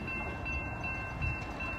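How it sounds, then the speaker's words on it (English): Long freight train with 422 axles passing on track 1, a steady close rumble of rolling wagons with faint metallic tones, quite loud and continuous throughout. "we got a train coming 422 axles on track 1, and it's already here"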